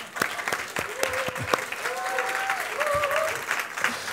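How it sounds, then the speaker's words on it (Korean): A church congregation applauds together, a dense steady burst of clapping with some voices mixed in. "박수를 한번 하는"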